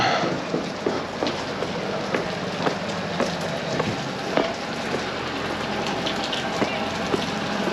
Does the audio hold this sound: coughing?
no